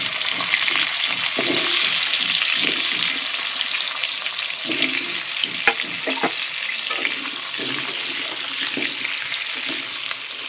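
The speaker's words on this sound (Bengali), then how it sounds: "আলুগুলো একটু ভেজে নেবো ভালো করে।" Potatoes frying in oil in a pan for a crab curry, a continuous bright hiss and crackle with scattered spoon clatter, close and fairly loud throughout, no voices.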